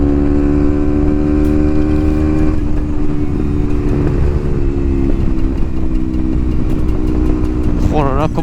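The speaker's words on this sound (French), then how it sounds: "si vous entendez ça, vous dites forcément qu'il y a une moto qui arrive" Beta 125 RR 4T, a 2021 liquid-cooled enduro motorcycle, runs loud and close, its engine and exhaust droning steadily with a rising rev near the end; a voice talks over it.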